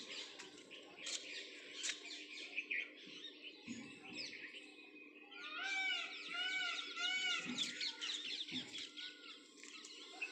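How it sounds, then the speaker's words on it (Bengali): A peacock calls from a neighbouring rooftop, loud wailing cries rising over a background of chirping birds and clucking fowl outdoors, with a few nearer bumps and knocks. "কত সুন্দর ডাক, ময়ূর ডাকছে পাশে।"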